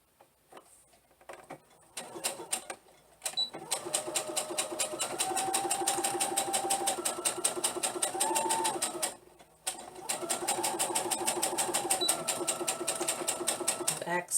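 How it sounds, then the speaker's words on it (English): A sewing machine stitches fabric in two long, rapid, rattling runs, close and fairly loud, separated by short pauses, with a few soft handling sounds at the start. "And then we're going to sew this down."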